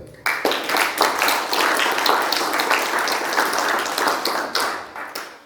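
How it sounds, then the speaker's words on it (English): Applause from an audience at a ham radio contest meeting in Istra, 2022, a dense wash of clapping that starts abruptly, holds steady for several seconds, then thins out. "I think they deserve a round of applause for that"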